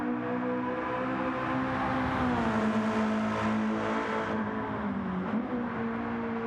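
Honda EG Civic engine in Gran Turismo 7, a steady buzzing drone that holds at high revs, rises slightly in pitch, then eases off near the end, close and continuous with no talk.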